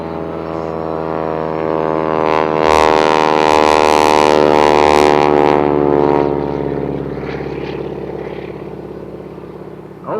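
A Stearman biplane with a 450 horsepower engine roars at full throttle, a loud, steady propeller drone that swells in the middle and eases slightly toward the end, with no talking.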